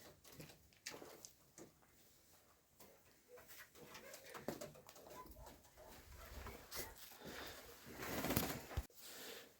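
Soft pigeon cooing mixed with rustling and fluttering in a pigeon loft, faint and uneven, with occasional louder scuffles toward the end.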